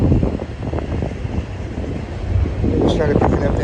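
Strong wind buffets the microphone trackside at Cajon Pass on a high-wind afternoon, a steady broadband rumble that thickens and grows louder in the last second, with a voice faintly mixed in.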